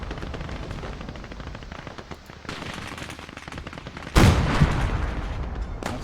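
Anti-tank gun and machine gun fire in a war video game, with steady rattling bursts throughout, a sudden loud heavy blast near the end followed by continued firing and another sharp report.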